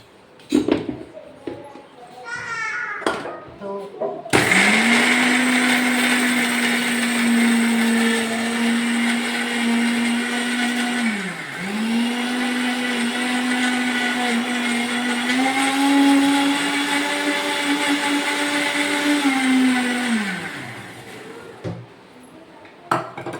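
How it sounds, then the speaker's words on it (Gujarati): A mixer grinder grinds wheat flour in its jar with a loud, steady motor whine that runs close for about sixteen seconds and briefly dips in pitch midway. Handling clatter and a voice come before and after. "જો આપણે આવી રીતે લઈ અને મિક્સરમાં દળી લેશું"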